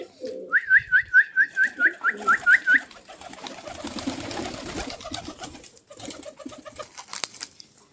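Karna pigeons kept as a breed coo while being fed roasted gram, a quick run of about a dozen rhythmic close calls followed by softer shuffling and pecking noises.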